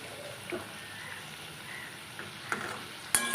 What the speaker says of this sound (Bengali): এই যে এইভাবে মালপোয়াগুলো ভেজে নিচ্ছি